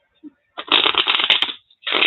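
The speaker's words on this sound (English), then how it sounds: "this is a really thick tarot deck, so I actually have to shuffle it in two parts" A thick tarot card deck shuffled by hand in two bursts, a dense riffling rustle lasting about a second, a short pause, then another close, steady shuffle.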